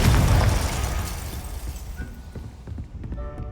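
A Confringo spell explodes in Hogwarts Legacy with a loud, close blast that fades over a few seconds into scattered crackles and small debris clicks.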